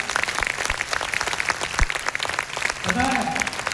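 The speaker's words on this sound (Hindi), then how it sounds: "एक बार ग्रेट क्लैपिंग करके दिखाइए।" Dense, steady clapping from an audience at an awards event in Bhagalpur fills the whole stretch, with a voice rising over the crowd near the end.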